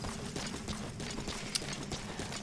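Horse hooves clip-clop at a steady walking rhythm in Metal Gear Solid 5: The Phantom Pain, a moderately quiet string of even hoofbeats with one sharper knock partway through.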